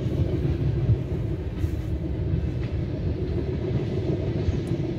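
Heavy freight rail cars of a CSX ethanol train rumble past close by at a road crossing in a continuous low roll, with faint clanks and squeals over the steady rolling noise.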